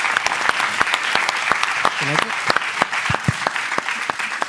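A small audience claps for a panel discussion, a moderate round of distinct, scattered hand claps with a voice briefly murmuring under it.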